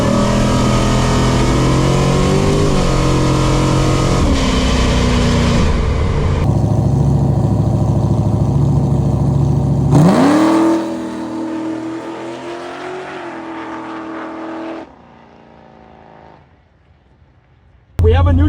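A car engine idles and revs hard, its loud mid-range roar rising and falling, then settles to a lower idle before cutting out briefly and restarting; no one speaks.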